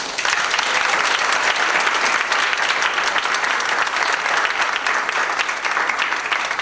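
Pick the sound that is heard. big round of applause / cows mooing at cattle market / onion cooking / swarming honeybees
big round of applause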